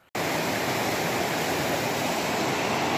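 A river in Oregon runs swollen and rushing after heavy rain, a loud, steady broadband roar of water that starts abruptly and holds without letup.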